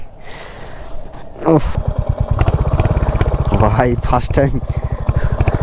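A Royal Enfield motorcycle starts being ridden, and its engine jumps to a loud, close, rapid thumping beat that carries on steadily while someone talks over it.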